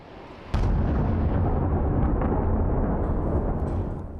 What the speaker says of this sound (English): Last night, this missile strike in Tel Aviv marked the start of Israel's casualties in this war.